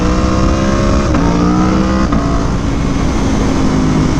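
An Aprilia Tuono V4 motorcycle engine roars steadily and loudly while lifting into a wheelie, its pitch stepping up across a couple of gear changes in a continuous close drone.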